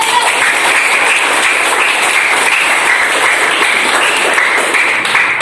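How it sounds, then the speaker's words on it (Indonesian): A classroom of students applauds for their teacher at the start of a morning lesson, a steady, even patter of many hands clapping that holds at a constant level without pause. "Tepuk tangan."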